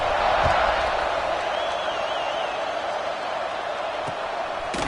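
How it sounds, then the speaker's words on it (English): A football stadium crowd keeps up a steady, broad roar after a score, with a voice briefly audible above the din. "this crowd is buzzing after that last score"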